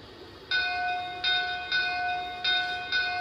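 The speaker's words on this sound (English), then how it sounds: "the first sound I'm going to do is the bell" A Lionel Golden Spike brass hybrid 4-4-0 model locomotive's bell rings five times at an uneven pace, each bright metallic strike ringing briefly before the next, clear and close over a quiet background.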